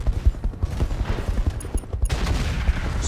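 Mech weapons in the RogueTech video game fire in a dense, rapid volley of booming shots over a continuous low rumble, loud and close with no talking.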